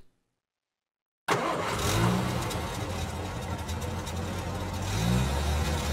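Car engine in a video game cranks and starts after a key is turned, then settles into a steady mid-pitched idle with a low hum, following a moment of near silence.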